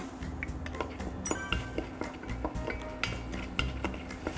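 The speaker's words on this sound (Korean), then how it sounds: "달궈진 팬에 올리브유를 약간 두르고 새우살과 당근을 넣어서 먼저 볶아주세요." Shrimp and carrot stir-fried in a little olive oil in a hot pan, heard as a soft background sizzle under frequent light utensil clicks and scrapes against the pan.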